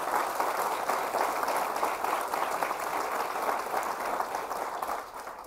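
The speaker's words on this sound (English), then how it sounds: "Let's give them a big round of applause for providing this land." Loud, sustained applause from a crowd at a groundbreaking ceremony for a veterans center, steady clapping that fills the whole stretch and eases off slightly at the end.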